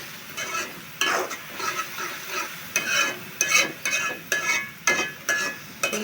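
Onion frying in a hot pan with cinnamon and cardamom while making a beef tripe bhuna, a steady sizzle broken by repeated stirring scrapes in an irregular rhythm.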